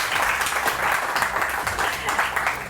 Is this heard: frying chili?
no